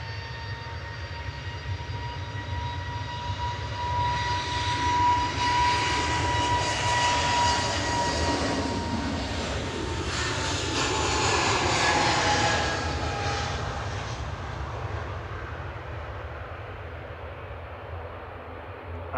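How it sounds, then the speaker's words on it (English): An EasyJet airliner departs Manchester Airport, its engine roar building steadily and swelling to a broad peak before slowly receding, heard from a distance with no talk over it. "EasyJet departing to Amsterdam, use at LC with flight 2161."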